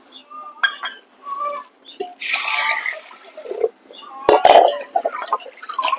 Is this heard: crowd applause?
no